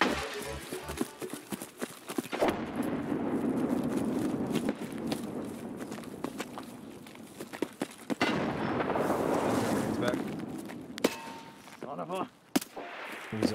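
A grenade blast and gunfire in the video game Escape from Tarkov: loud, sustained, rumbling bursts with sharp cracks, while players talk over the combat.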